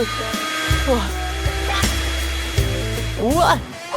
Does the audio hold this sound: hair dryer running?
yes